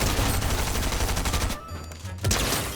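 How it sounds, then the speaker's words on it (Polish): Rapid bursts of gunfire in the video game Fortnite during a hide-and-seek match, loud and close, broken by a brief lull before shooting resumes. "Tutaj gościu mi strzela."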